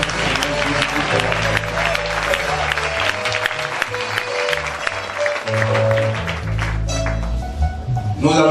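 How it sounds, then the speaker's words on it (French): Church congregation at a thanksgiving celebration breaking into sustained applause and cheering, a dense crowd roar with steady clapping, with music tones running underneath and voices mixed into the noise. "cela mérite des acclamations pour la gloire de notre Seigneur"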